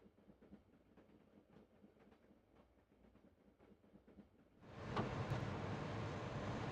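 A train in the Broken Sword adventure game runs with a faint rhythmic clatter that suddenly swells into a loud, steady roar of rushing wind and rumbling wheels.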